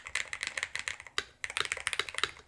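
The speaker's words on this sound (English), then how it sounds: "It is a loud spacebar." Fast typing on a DrunkDeer A75 Ultra mechanical keyboard, a dense run of crisp, bright key clacks with a few heavier, louder spacebar hits, heard up close with no talking.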